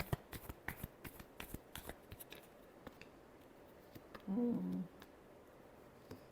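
Tarot cards are shuffled by hand in a quiet room, a run of soft, quick riffling snaps and flicks close by, followed by a short faint humming tone near the end.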